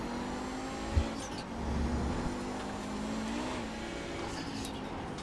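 Audi 90 GTO race car engine in a vintage IMSA racing video game at Mid-Ohio, droning steadily at high revs with a brief thump near the start and a slight pitch dip and rise as the car is braked and held on track.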